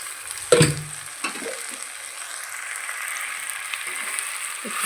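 Masala-marinated chicken and ash gourd hit a hot pan with a sharp clatter, followed by a continuous gentle sizzle and occasional scraping stirs throughout.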